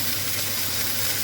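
Tuna sizzling in a hot pan for a Niçoise salad, a steady, even crackle of frying fat that holds at a constant level from start to finish with no voices over it.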